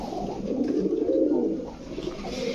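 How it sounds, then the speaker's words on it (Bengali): A male Giribaz racing pigeon coos steadily in a low, soft, rolling murmur, close by and alone, with no talk over it. "নটটা ডাকতেছে তো আমরা দেখছি নটটা অ্যাক্টিভ আছে"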